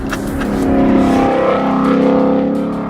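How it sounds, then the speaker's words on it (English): A Ford Mustang GT V8 revs hard on a race track, a loud, close engine note that climbs and holds steady for several seconds with no talking over it. "There is just something about this engine that I absolutely love. The sound of it and the way that it revs."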